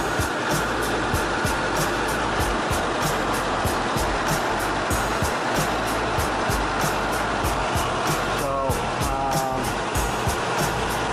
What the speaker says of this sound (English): this bearing over here is the one that's making all the noise